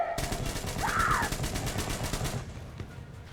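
Rapid automatic gunfire in the video game Metro Exodus, a fast burst of evenly spaced shots lasting about two seconds, with a brief whooshing effect partway through, moderately loud and without talk.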